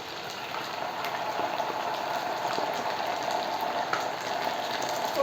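Chicken sizzles and bubbles in a karahi with ginger garlic paste, a dense steady frying hiss with small crackles and pops, close and fairly loud, no talking.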